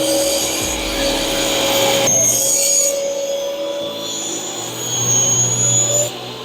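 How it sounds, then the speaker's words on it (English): A table saw trims the edges of a wooden board, its motor running loud and close with a shifting whine as the blade cuts through, then easing before picking up again near the end. "I'm gonna go clean up these edges on the table saw and then sand it all down"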